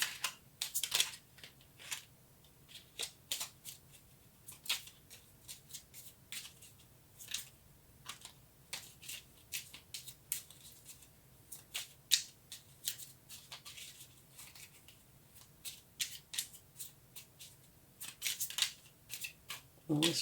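Tarot cards are shuffled and drawn by hand, quick soft riffles and snaps scattered irregularly at close range, with quiet talking in between.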